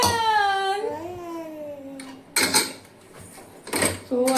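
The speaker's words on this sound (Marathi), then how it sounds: "सो आता सर्वात आधी कुकर काढून घेऊ आपण" Metal pots and a pressure cooker clatter and clank in a home kitchen, with two sharp bursts of banging after a drawn-out whining tone at the start.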